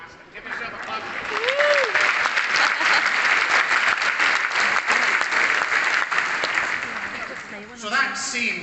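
A graduation audience bursts into sustained applause, many hands clapping loudly together for several seconds before fading, with voices calling out beneath and speech at the end.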